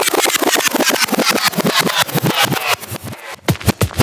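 Orange Cadillac engine running on the road, a steady loud motor drone with rhythmic pulsing, close and continuous with no talk.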